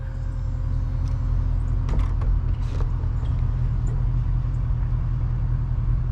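A Mercedes CLK550 convertible with an M273 V8 and a factory manual swap, its power top opening: steady mechanical whirring with creaks and clunks from the moving roof over a constant low hum, close and fairly loud throughout.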